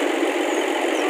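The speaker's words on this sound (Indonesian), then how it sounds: "dengan knalpot tipe race-nya. Teman-teman bisa dengarkan sendiri." Bus engine fitted with a race-type exhaust, a steady close rumbling drone that holds at an even level throughout.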